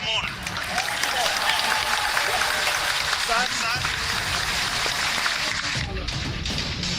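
Sustained crowd applause and cheering at the Chandrayaan-3 moon landing, a dense continuous clatter of many hands with voices mixed in throughout.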